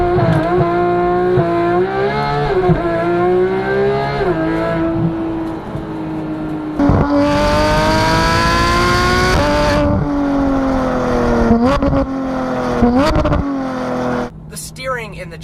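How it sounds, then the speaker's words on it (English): A 2015 Porsche GT3 flat-six with an IPE F1 exhaust revs hard and climbs through the gears, its wailing note rising and dropping with shifts and throttle lifts, loud and close throughout. "let you listen to this incredible sounding flat six"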